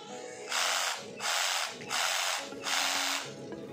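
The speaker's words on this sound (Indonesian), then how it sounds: "Sekarang kita akan coba nyalakan." A Modern M22 cordless jigsaw is switched on four times, each a roughly half-second burst of loud, high-pitched buzzing motor whine separated by short quiet pauses, close to the microphone.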